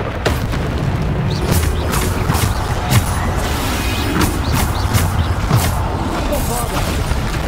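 Repeated booming spell blasts from the Hogwarts Legacy game, bursts arriving in a quick irregular series over a dense rumbling combat background, with no talking over them.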